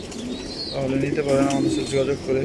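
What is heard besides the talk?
racing pigeons cooing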